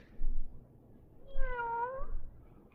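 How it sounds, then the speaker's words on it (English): A cat gives a single clear, drawn-out meow at close range, alone over a quiet low background. "Here, kitty, kitty, kitty, kitty, kitty."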